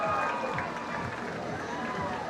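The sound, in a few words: audience applauding and cheering at cruise ship boat regatta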